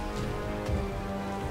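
Steady rain pattering in the video game Dying Light, a dense continuous hiss at moderate level with a low rumble beneath and no talking.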